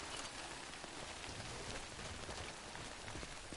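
Steady rain falls in the Death Stranding game world, a dense, even hiss of drops on surfaces with no break and no voices.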